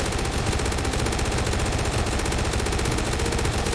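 Sustained, dense automatic fire from an MG4 machine gun in the Roblox zombie-riot game, a loud unbroken stream of rapid shots lasting the whole stretch with no talk over it.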